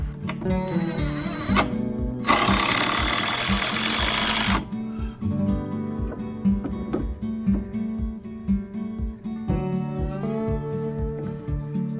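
Building a shed ramp from 5/4 by 6 pressure-treated deck boards: a saw burst cutting a board, then repeated close, rhythmic tool noise as the boards are fastened down, with no talking.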